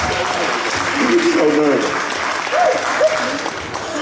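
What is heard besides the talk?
applause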